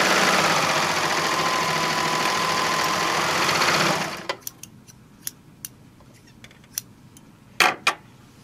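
A serger runs steadily for about four seconds, stitching the edge of a fabric wine bottle gift bag with a loud, close, whirring buzz, then stops, followed by a few sharp clicks and handling taps.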